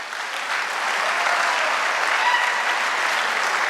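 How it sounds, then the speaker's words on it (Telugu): An audience at a family achievers' reunion training event claps loudly and steadily, a dense, continuous wash of applause with no pauses that swells slightly toward the end. "గట్టిగా క్లాప్ చేయండి."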